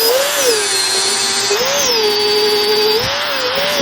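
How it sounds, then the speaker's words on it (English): A Bauer angle grinder fitted with an 80 grit flap disc grinds down a weld on a hydraulic cylinder port. It makes a loud, steady, high whine that runs without a break, with small pitch wobbles as the load shifts. "I'll just get my cheap angle grinder. This is a Bauer brand from Harbor Freight with 80 grit flap disc."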